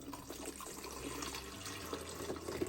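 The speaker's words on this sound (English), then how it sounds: "And then I'm gonna put a little bit of water." About a cup of water is poured into a container holding lime and lemon for a homemade winter cough syrup, giving a short, steady, gentle trickle that is faint and close, with no talking.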